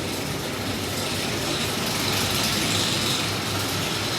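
The chain lift motor of the wooden Kentucky Rumbler roller coaster at Beech Bend runs with a steady, dense mechanical rattle and clatter, close and continuous with no talking.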